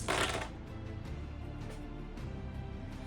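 A quick clatter of plastic dice from a Game of Thrones Risk board game, a sharp burst at the start followed by a few lighter taps and settling rattles, close and fairly quiet.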